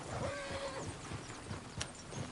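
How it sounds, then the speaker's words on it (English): Horses in Red Dead Redemption 2 whinnying, one clear neigh early on over a steady rhythmic clip-clop of hooves, plus a sharp snort or thump later, all at moderate level. "Oh, shit, the horses! Damn horses!"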